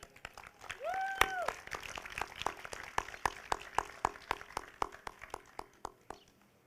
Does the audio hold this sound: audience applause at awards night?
yes